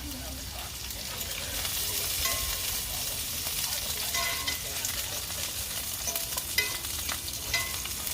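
Beef Wellington sears on a barbecue grill with a steady, close sizzle and crackle that continues throughout, with some light clinks and a faint background voice.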